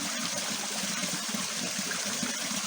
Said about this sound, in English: the water's flowing pretty good down here